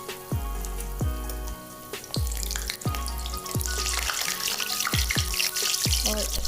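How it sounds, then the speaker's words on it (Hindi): A jaggery sweet fries in oil over low heat, giving a continuous close sizzle broken by regular dull knocks about once a second. "इसे तेल में फ्राई करते हैं।"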